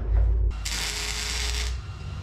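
Angle iron pieces being welded together give a harsh, hissing crackle that starts abruptly after a low rumble and runs steadily for about a second before cutting off.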